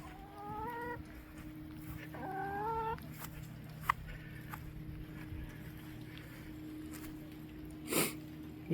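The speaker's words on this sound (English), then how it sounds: "Some of you like to see the chickens." Chickens cluck and warble in short bursts, a few calls close by over a steady low hum, with a sharp snort near the end.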